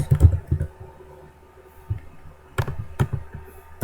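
Computer keyboard keys clatter in quick clusters of taps, with pauses between bursts, close and moderately loud with no talking.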